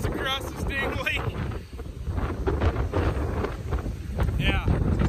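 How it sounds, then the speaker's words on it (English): Strong wind roars steadily across frozen Lake Winnipeg during ice fishing, buffeting the microphone loudly throughout, with voices speaking over it. "that wind's blowing like 200 miles across this dang lake"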